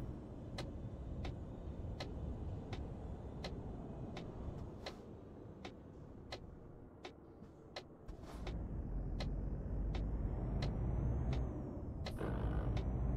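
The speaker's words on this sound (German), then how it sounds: "Das Getriebe klang jetzt gerade nicht so angenehm." An Iveco truck's gearbox shifts roughly in Euro Truck Simulator 2, a steady engine drone broken by a regular series of sharp clicks and clunks, the engine note rising louder toward the end; no speech.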